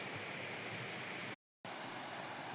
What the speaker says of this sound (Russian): Оказывается, это водопад Шукур